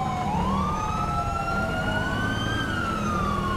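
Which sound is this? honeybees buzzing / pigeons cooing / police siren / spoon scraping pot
police siren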